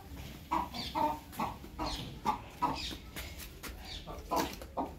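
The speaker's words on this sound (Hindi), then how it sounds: "इस मुर्गी के रोने से परेशान है" A hen clucks repeatedly nearby, giving a run of short, rhythmic throaty calls at a moderate level with no talking over them.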